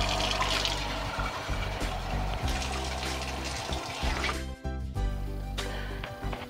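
Water draining from a jar of rinsed sprouts, a continuous close trickle and gurgle that runs throughout with a brief dip near the end.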